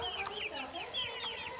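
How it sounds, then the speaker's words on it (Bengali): White broiler chickens on a poultry farm cluck and chatter in quick, overlapping calls, fairly faint and close together, with no talk. "এগুলো হচ্ছে সাদা ব্রয়লার মুরগি"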